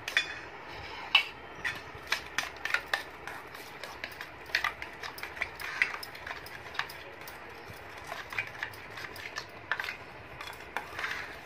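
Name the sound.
mixing spices and salt into curd (yogurt) in a bowl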